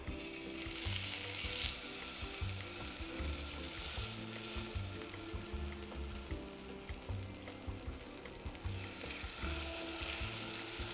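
Vegetables fry in a nonstick pan on low heat, giving a steady close sizzle and crackle with occasional stirring, continuous for the whole stretch with no talk.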